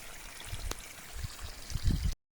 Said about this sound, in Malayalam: മോട്ടറിൻ്റെ ഓസിൽ ഇങ്ങനെ വെള്ളം പോണ സൗണ്ടായിരിക്കും കേൾക്കുന്നത്.